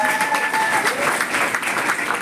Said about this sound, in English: Big round of applause for all my lovely teammates